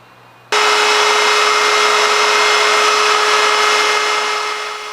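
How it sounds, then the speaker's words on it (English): A power tool, likely a router, rounds the edges of wooden deck pieces for a restored 1930s sled, starting abruptly and running as a steady, loud, high whine close by before easing off slightly at the end. "Here I am putting the radius on these edge pieces for the deck."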